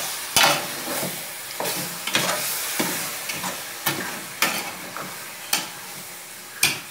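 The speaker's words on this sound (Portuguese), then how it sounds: "Tem que mexer bem, deixar ele refogar bem." A spoon stirs free-range chicken sautéing in a pot, with a run of scraping strokes and knocks against the pot at an uneven rhythm over a soft sizzle, close and alone.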